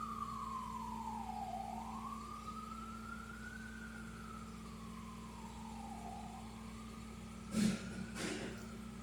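An ambulance siren wails as it passes, a continuous rising and falling tone heard at moderate distance over steady traffic rumble, with a couple of short bumps near the end.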